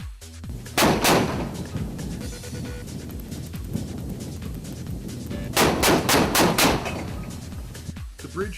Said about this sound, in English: 57mm gun. It is a stabilized gun platform that can fire 220 rounds per minute